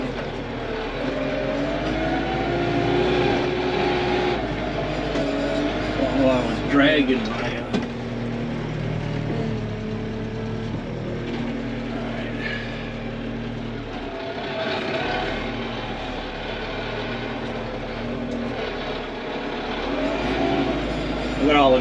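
A tractor drives across a food plot being prepared for planting, its engine droning steadily throughout while someone talks over it at length.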